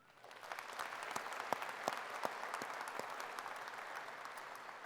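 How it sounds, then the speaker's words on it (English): Breakfast attendees at a trade show grand opening give a hearty round of applause for their servers, dense clapping that swells quickly and stays steady, with a few crisp nearby claps popping out over the crowd. "how about a big round of applause for the servers who took care of you this morning?"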